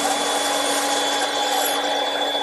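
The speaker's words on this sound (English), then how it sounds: "I'm going to use the band saw" A band saw cuts scallop shapes from a wooden workpiece, making a loud, steady whirring hum with constant broadband blade noise throughout, close by and without talk.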